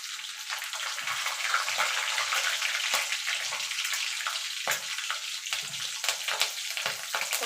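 Nigella seeds and slit green chillies fry in hot mustard oil with a steady, close, crackling sizzle and occasional sharper pops.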